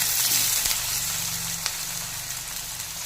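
Chopped onions sizzle steadily in a hot pan, four medium ones for mutton kasha, with a dense, even crackling hiss at close range and a couple of soft stirring knocks.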